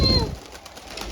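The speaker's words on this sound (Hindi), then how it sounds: "ये देखो बगल से उड़े कबूतर" Pigeons taking off from a rooftop in a residential area, a brief flutter of wingbeats right at the start, followed by a soft, faint outdoor background.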